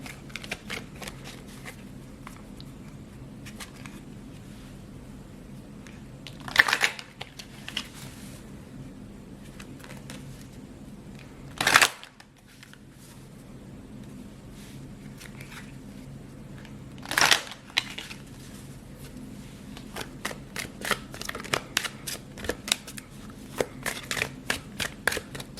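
Tarot prism cards being shuffled close up, three short riffle bursts spaced several seconds apart, then a stretch of soft rapid tapping and flicking of the deck, with quiet handling in between.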